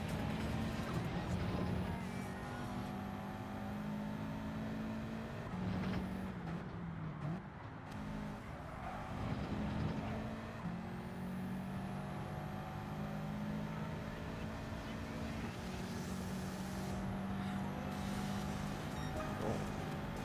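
Race car engine in a racing game, a steady droning whine that rises and falls as the throttle is worked through corners, continuous and moderately loud with no talking.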